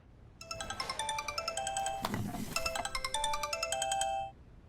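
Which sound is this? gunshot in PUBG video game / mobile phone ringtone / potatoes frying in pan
mobile phone ringtone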